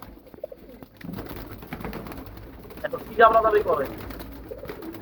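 Young tournament-flying pigeons coo and call in a loft, with a short, louder burst of cooing midway over a steady background of rustling and soft ambient noise.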